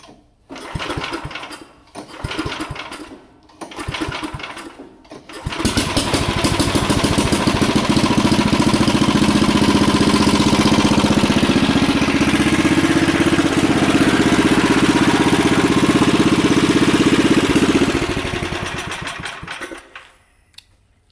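A small engine on a 1966 Sears Suburban lawn tractor sputters in a few short bursts, then catches and runs steadily at a loud, rough idle before cutting out near the end.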